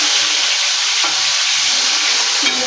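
Fish pieces fry in hot oil in a pan with a loud, continuous close-up sizzle and crackle, broken only by a couple of soft bumps as the pieces are moved.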